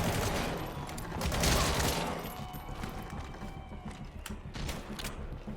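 Assault rifle gunfire in Metal Gear Solid V: The Phantom Pain, loud rapid bursts and mechanical clatter over roughly six seconds, with no talking.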